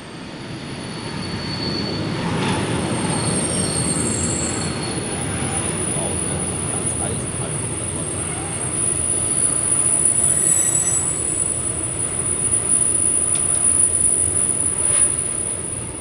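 Train running on rails at night, a steady loud rumble of wheels with faint high squealing, continuous and close, with no clear voices.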